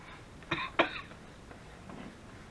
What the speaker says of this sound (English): Still have some coughing.